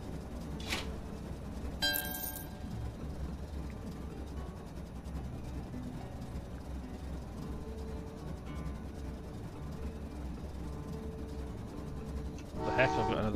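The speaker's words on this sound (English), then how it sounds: "And send out another train and send it over there." Trains run in the rail-building game Train Valley 2, with a soft, continuous rolling hum under two short train-horn blasts, one near the start and one near the end.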